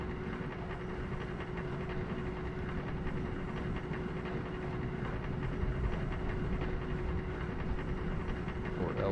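A tram elevator in the game Lifeless Planet travels along, a steady mechanical rumble with a constant hum and faint rattling, even and continuous throughout without speech.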